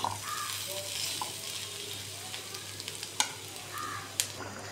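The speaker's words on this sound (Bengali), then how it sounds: "লাউয়ের পাশে পাশে আমার ভাজি হয়ে যাচ্ছে" Dry bottle gourd bhaji fries in a pan with a steady, faint sizzle. Occasional scrapes and a couple of sharp taps come from a spatula as it stirs, up close.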